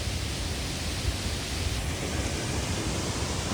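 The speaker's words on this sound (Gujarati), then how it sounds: "આ ડેમની માથેથી પાણી જવા માંડ્યું છે" Water spills over a dam swollen by unseasonal rain as a steady, dense rush that keeps the same level throughout. The roar is even and broadband, and no voices are heard.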